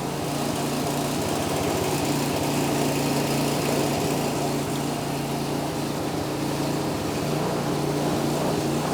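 A Honda snowblower engine runs just after starting: a steady, close, buzzing small-engine drone with a rapid pulsing rhythm that keeps going without pause and with no talk over it.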